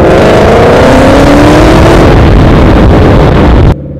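Car engine with an exhaust, revved hard as the throttle is blipped: a loud, close roar whose pitch climbs steadily for about two seconds and stays high, then cuts off abruptly near the end.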